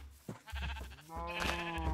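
Sheep bleating from an automatic sheep farm in the video game Minecraft, several close, wavering bleats overlapping in quick succession.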